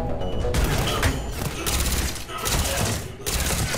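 Gunfire in the video game Mass Effect 3, repeated loud bursts of rapid shots separated by short pauses, with booming impacts and a voice talking over the shooting.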